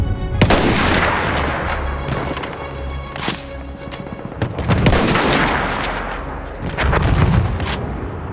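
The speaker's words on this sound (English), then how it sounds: "Wait for the enemy artillery barrage to stop firing." A heavy enemy artillery barrage in Battlefield 1, with repeated loud booming impacts and rumbling gunfire in irregular bursts, close and continuous without speech.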